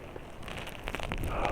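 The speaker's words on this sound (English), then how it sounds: "Oh no, here comes the rain." Rain beginning to fall outdoors on a steep hill road in Mallaig during a storm, a brief patter of drops that grows denser and louder within a second or two.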